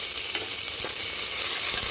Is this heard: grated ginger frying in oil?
yes